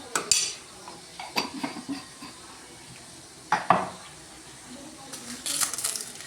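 Salted chicken pieces being mixed by hand in a bowl, giving scattered clinks of a utensil or bowl and soft wet stirring sounds, close and fairly quiet, with short bursts and pauses and no talk.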